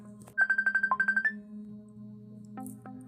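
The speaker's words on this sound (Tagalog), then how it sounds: "Tunog ng phone ng auntie ko." A mobile phone ringtone plays a quick run of about a dozen bright electronic beeps over a steady low tone, then a couple of softer chimes follow, clear and close.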